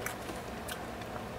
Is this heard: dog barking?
no